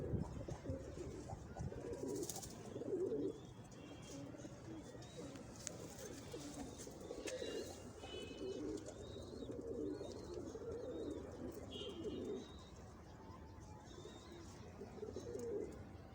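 Sialkoti breeder pigeons of an old breed coo steadily and close by in a low, rolling murmur that runs throughout, with faint chirps and rustles above it.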